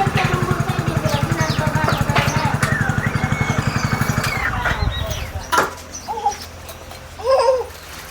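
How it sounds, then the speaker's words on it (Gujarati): A motorbike arrives and idles nearby with a steady rapid putter that cuts off after a few seconds, followed by people talking and laughing. "જો બાઇક આવી"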